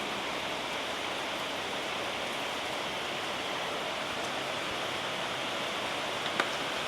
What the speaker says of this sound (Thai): ฝนก็ยังไม่หยุดเลยเนาะเพราะว่าช่วงนี้เป็นช่วงพายุค่ะ